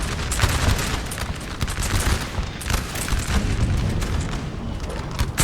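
A Napoleonic battle in a strategy game fills the air with dense, continuous musket volleys and deep artillery booms, loud overlapping cracks and rumbles with no pauses.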